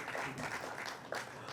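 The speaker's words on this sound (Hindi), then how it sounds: "ज़ोरदार तालियां इस्तकबाल कीजिए" Audience at a mushaira poetry gathering during a literature festival applauds as a poet is welcomed to the stage, a brief steady wash of clapping at moderate distance.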